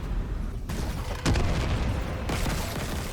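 A loud explosion bursts from the sci-fi horror video game Dead Space (2023), a sudden broadband boom rising over a dense, noisy game soundtrack and then rumbling on under continued effects.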